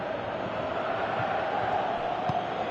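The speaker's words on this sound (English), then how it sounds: "you can feel and hear how the crowd are reacting to all of this" Football video game crowd noise, a steady broad roar of stadium supporters filling the background with a faint swell, continuous and fairly distant with no distinct voices.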